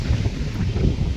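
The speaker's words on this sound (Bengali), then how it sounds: "ভীষণ হাওয়া, ভীষণ হাওয়া, ঠান্ডা হাওয়া।" Strong cold wind on a sea beach after rain, heavy low buffeting roar against the microphone, loud and continuous throughout the short stretch.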